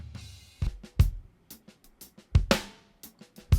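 A dry snare drum sample blended with overhead and room microphones plays a loose pattern of loud cracks and softer ghost strokes, each hit ringing with natural room ambience rather than reverb.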